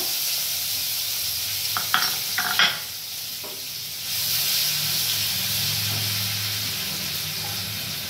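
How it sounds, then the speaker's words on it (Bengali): Garlic paste dropped into hot oil already sizzling with cumin seeds, a few sharp spits and crackles at first, then a steady loud hiss and sizzle that carries on alone. "এরপরে মা দিয়ে দিচ্ছে রসুন বাটা"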